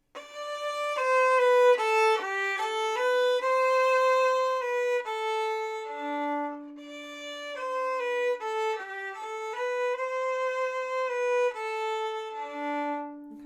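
A violin plays a solo phrase from Martini's Gavotte (Suzuki Book 3), sustained and shorter notes, clear and close, with no talking.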